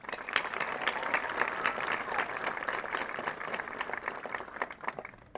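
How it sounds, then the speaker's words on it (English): Applause for a high school graduating class at a graduation ceremony, a sustained wash of many hands clapping from a large crowd, moderately distant, continuous for several seconds with no speech over it. "I would first like to give another round of applause to the class of 2022"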